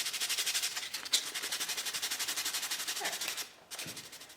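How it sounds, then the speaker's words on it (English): Wood for a bench-style bird feeder is sanded by hand in quick, regular back-and-forth strokes, close and steady, with a short pause near the end before the rubbing resumes. "I'm going to sand that off"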